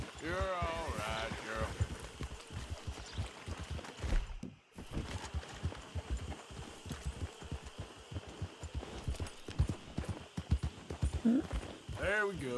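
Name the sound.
horse hooves approaching, video game Red Dead Redemption 2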